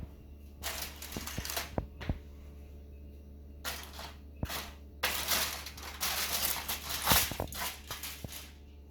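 The covering comes off a rum-glazed Jamaican barbecue pigtail in several bursts of close crinkling and rustling, separated by quiet pauses, with no one talking.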